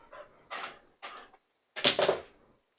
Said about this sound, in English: This is what she's barking at.